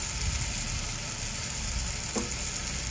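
Tomatoes sautéing in a pan for a tender cashew vegetable dish give a steady, close, even sizzle that runs without a break, with one faint clink partway through and no talk.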